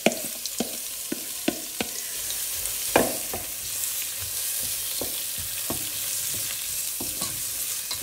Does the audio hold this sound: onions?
yes